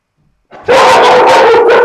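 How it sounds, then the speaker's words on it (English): After a brief quiet start, a dog indoors lets out a loud, close, sustained bark-whine that carries on in a few pulsing bursts. "That's my dog."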